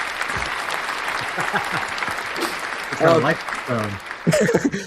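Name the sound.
audience applause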